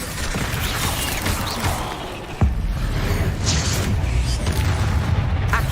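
A Bombarda blasting spell explodes in Hogwarts Legacy gameplay, landing as one sharp, loud boom partway through over a dense, steady wash of game noise and effects.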